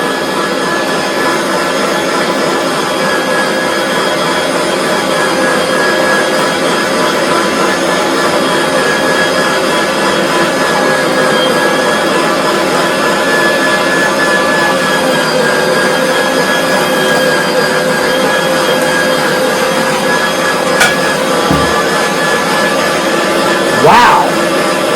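A Vevor 4.2 pound electric meat grinder runs steadily at close range, its loud even motor whine holding without stalling. A couple of brief clunks come near the end.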